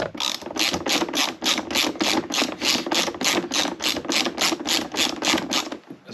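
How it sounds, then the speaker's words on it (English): A hand ratchet undoes bolts on a Porsche Boxster door card, clicking in a fast, regular run of about twenty sharp strokes close by, with a brief pause near the middle before the clicking stops. "I'll ratchet these off."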